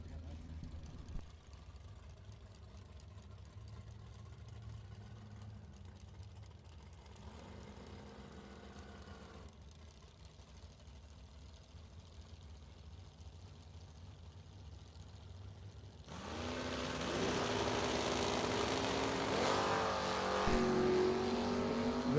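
A 1965 Chevrolet Malibu and a 1969 Camaro at a drag strip, engines idling and rumbling through the first stretch before a loud, sustained roar builds up around the later seconds, with announcer talk over it.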